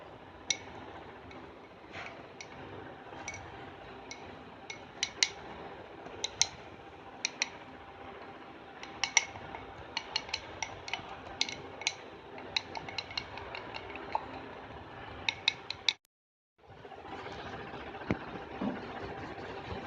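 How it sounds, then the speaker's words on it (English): Hair colour paste being mixed in a mug gives sharp, irregular clicks and taps of a utensil against the mug over a steady low hum, with a brief silent break near the end. "I think I'm done mixing it together."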